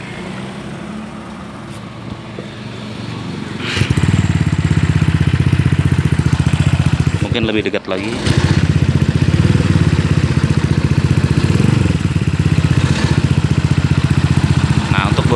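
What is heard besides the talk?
Honda PCX 2018 scooter with R9 Misano exhaust idling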